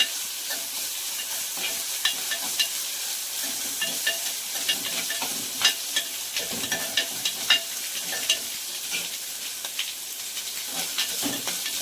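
Ginger and garlic fry in a clay pot with steady sizzling hiss, broken by frequent scraping stir strokes and small crackles throughout.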